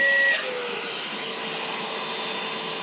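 A cordless HEPA wet/dry vacuum runs steadily at close range with a loud, even whine and broad hiss, after a brief higher-pitched spin-up tone at the start; no one talks over it.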